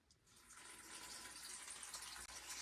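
Water drains steadily out of an old electric water heater being replaced, a continuous hissing gush that swells after a moment and runs on evenly, close by, with no talk.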